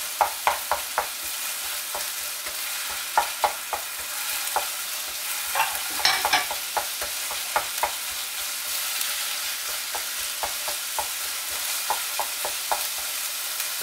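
Chicken for pad krapao stir-fried in oil in a wok over a gas flame, a steady hiss of frying broken by sharp clacks and scrapes of the spatula against the pan, with no talking.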